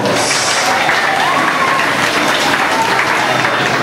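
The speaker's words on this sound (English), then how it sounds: "let's give them a big round of applause" An audience at a Disney Hollywood Studios show breaks into dense, sustained applause with a few faint cheers, loud and continuous, with a voice briefly audible beneath it.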